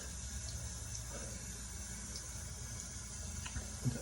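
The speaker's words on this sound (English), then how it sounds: "Get some more water going on my face." A tap runs steadily into a sink while someone splashes water on their face, a constant close gushing flow with a few small splashes near the end.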